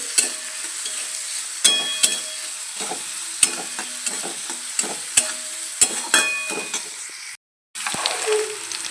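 Corn, onion, carrot and chili roasting in hot oil with mustard seeds and cumin, a steady sizzle broken by repeated scraping stirs of the spatula, briefly cutting out near the end before resuming.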